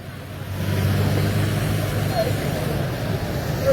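Car engine idling steadily in floodwater on a flooded road after a heavy downpour, a continuous low rumble with a faint watery wash, near and constant throughout.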